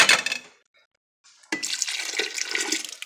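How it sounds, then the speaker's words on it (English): Water poured from a can into a pot of venison chili, a short splash that fades to silence, then a longer steady pour splashing loudly into the pot. "and going to add some water now."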